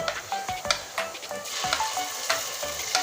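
Onion and garlic paste frying together in a pan, a close, steady sizzle with repeated sharp scrapes and taps of a stirring spoon.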